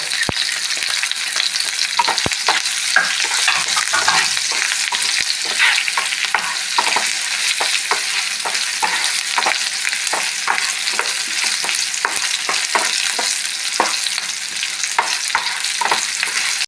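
An onion and chilli mixture for chammanthi frying in a pan, a loud continuous sizzle with frequent scraping stir strokes, close and steady throughout with no voices.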